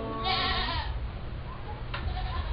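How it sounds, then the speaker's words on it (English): A goat at a county fair bleats in a long wavering call, then gives a second short bleat, both fairly close over a steady low hum of fairground background noise. "That goat's cute."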